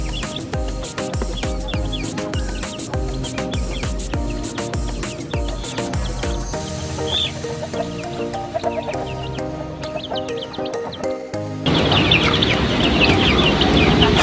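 Chickens clucking on a small backyard chicken farm at feeding time, many birds calling close by over a busy background of rhythmic music, with louder noise in the final seconds.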